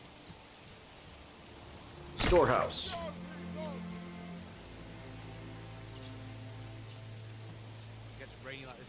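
Steady rain in the medieval city-building game Manor Lords hisses as a constant wash beneath a voice, with a brief louder burst near the start.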